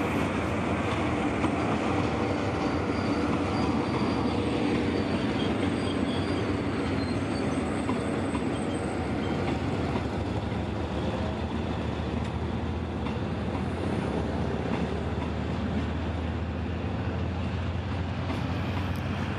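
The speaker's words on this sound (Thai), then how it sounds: "ขบวนก็กำลังเคลื่อนมานะฮะ" A continuous heavy rumble of an empty CNR train rolling along the rails near Bang Sue, Bangkok, steady and fairly loud throughout, with faint metallic squeals on top.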